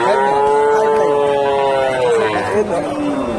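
A Friesian heifer at a cattle market gives one long, loud, close moo, falling in pitch, followed by a shorter second call, with crowd chatter in the background.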